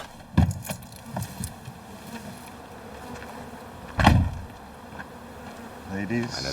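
Bees buzzing among trees on a warm sunny day, a steady low hum with occasional louder passes as individual insects fly close, under faint background noise.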